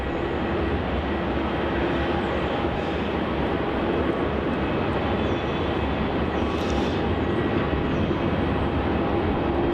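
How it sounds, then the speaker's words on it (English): Qantas Boeing 737 jet arriving at Melbourne Airport on an international flight from Auckland, a steady broad engine roar that holds loud and even throughout with no talk over it. "Looks like our next arrival is going to be a Qantas 737 coming in from Auckland"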